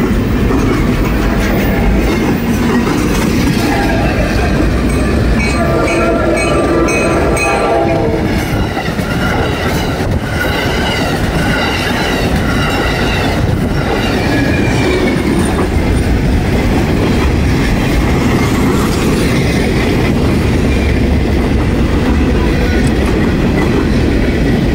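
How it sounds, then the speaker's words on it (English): An Amtrak Downeaster train heading to Boston passes the Rosemont Street crossing in Haverhill, Massachusetts, a loud continuous rumble of rail cars with clattering wheels and horn blasts throughout. "Double action here, Rosemont Street, Haverhill, Mass. Amtrak's Downeaster heading to Boston."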